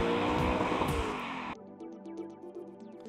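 An Audi R8 supercar with a V8 engine, a loud sustained engine roar that cuts off abruptly halfway, followed by quieter tonal engine sound and faint ticks.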